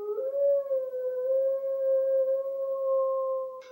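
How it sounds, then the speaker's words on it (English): A wolf-like beast gives a long, steady wailing howl, a single sustained tone that holds level for several seconds, loud and close with no other sounds around it. "It raised its head and gave tongue to its long wailing howl,"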